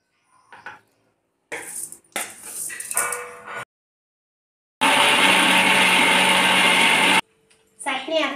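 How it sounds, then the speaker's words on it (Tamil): A mixer grinder jar grinds ivy gourd leaf chutney in one loud, steady whirring burst of a couple of seconds, set between short clattering handling noises of the jar and lid. "இப்போ இதை மிக்சி ஜாரில் சேர்த்து அரைச்சா கோவக்கீரை சட்னி ரெடி ஆயிடும்."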